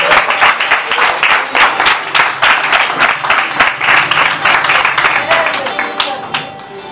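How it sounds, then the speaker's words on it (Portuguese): A congregation breaks into sustained, loud applause, many hands clapping together for several seconds, with a voice speaking over the crowd. "Aplaude ao Senhor por essa palavra."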